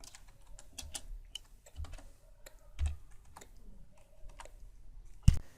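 Computer keyboard typing while coding in Unity: quiet, close, irregular clicks and key taps with short pauses and one sharper clack near the end, without speech.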